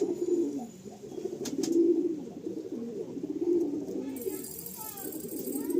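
Chotiyal pigeons coo in low, rolling, repeated phrases at close range, steady throughout with a brief rattle partway through; a faint voice may sit under the cooing.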